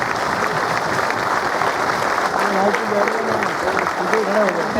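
Applause from the audience welcomes a guest at a cooperative sugar factories federation award ceremony in Delhi, steady clapping from a crowd with a voice speaking over it partway through.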